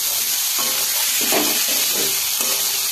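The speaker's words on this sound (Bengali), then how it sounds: "এবার আমি জল ঢেলে দেবো এর মধ্যে।" Water poured into a hot pan of spiced fried potatoes for a curry, a loud continuous sizzle and hiss with bubbling bursts rising and falling throughout, close up and with no talking.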